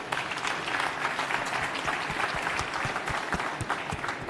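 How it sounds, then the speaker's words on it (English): A conference keynote audience at Viva Technology applauds steadily, dense clapping holding at an even level for a few seconds with no voices over it. "big round of applause for them"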